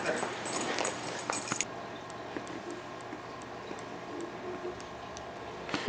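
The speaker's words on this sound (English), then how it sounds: "I hate dogs." A dog whimpers softly indoors, thin high whines and small yips coming in short bursts at first, then fading to faint intermittent whimpers over a quiet background.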